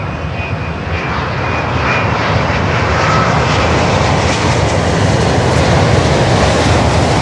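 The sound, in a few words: cargo jet aircraft engines at Miami airport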